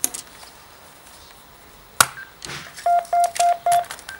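A Telstra V850a phone set gives off a run of four steady, evenly spaced electronic beeps near the end, after a sharp clack, with quiet handling noise before them.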